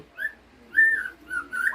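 A white-rumped shama (murai batu) sings a few clear whistled phrases, three or four short rising and falling notes spaced apart. The bird sounds close and moderately loud against a quiet background.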